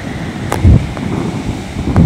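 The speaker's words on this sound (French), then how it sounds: "Regardez comme la mer est déchaînée. Et en plus le vent, regardez ce punaise de vent là." Strong wind buffets the microphone in rough gusts beside a rough sea on an Irish island, with low roaring surf under the steady blustery noise and no talking.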